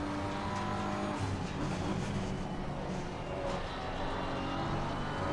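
High-revving race car engine in Assetto Corsa Competizione at Imola, screaming near 9,000 rpm with steady dense harmonic whine and tire noise, continuous and loud throughout without speech.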